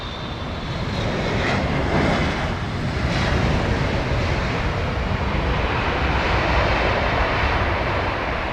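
Jet airliner touching down at London Heathrow, a steady loud roar of engines and rushing air that holds for several seconds without any talk.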